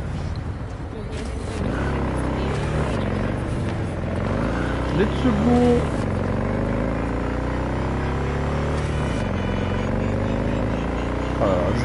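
A motorcycle engine in Cyberpunk 2077 rises and falls in steady revving sweeps, a loud continuous drone with shifting pitch as the bike accelerates, while someone talks over it throughout.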